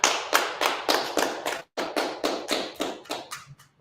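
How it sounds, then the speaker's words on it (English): A group of hands claps in a steady rhythm, about a dozen sharp, loud claps close by, with a brief pause midway and no talking. "Let's clap it up."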